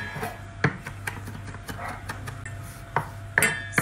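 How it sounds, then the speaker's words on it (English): A knife chops rosemary on a board in a few sharp, uneven thuds close by, with faint scraping between strikes. "just chop that up"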